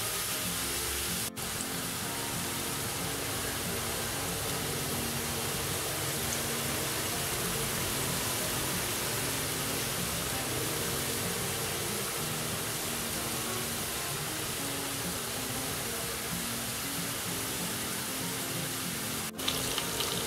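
Potatoes frying in a pan with seasoning, dill, onion, garlic and basil, giving a steady, even sizzle that stays level and close for the whole stretch, with no talking.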